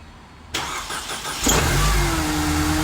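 A high-mileage Mercedes-Benz engine cranks and fires up, settling into an idle with a rising, thin supercharger whine held above the rumble, close by and without talk.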